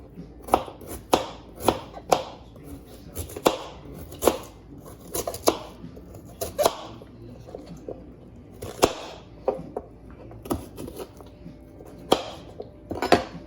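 A knife chops food into small pieces on a board while cooking salmon in cream sauce, giving a run of sharp, irregular close taps with clinks of utensils and dishes.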